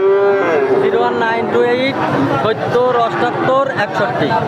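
Sahiwal bulls and other cattle moo loudly and repeatedly at a crowded border-area cattle market, long lowing calls overlapping with steady background chatter and talk.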